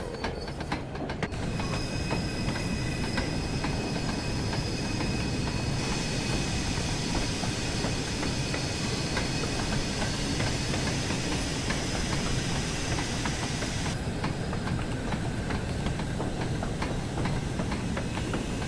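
A steam train in the video game Train Sim World 4 rolls backwards downhill. It gives a continuous loud rumble of wheels with hissing and steady high squealing tones for the whole stretch, and no one speaks.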